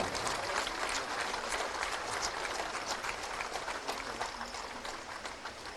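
Steady applause fills a hall during a government appointment-letter ceremony as an appointee is called up, a dense, even clapping from a sizable crowd, somewhat distant and continuous.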